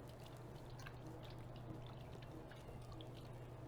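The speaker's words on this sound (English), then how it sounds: "we're going to put about 1/3 of the water in here just to temper the curd" Hot water poured onto cold mozzarella cheese curd, a faint steady trickle and splash with small drips over a low background hum.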